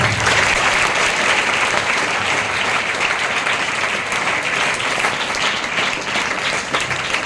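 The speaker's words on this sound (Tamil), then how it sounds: "பெற்றோர்களுக்கு ஒரு கைத்தட்டுங்க" Loud, dense clapping from an audience of students and parents at a motivational speech event, a continuous roar of hands that holds steady throughout, with a slight dip near the end.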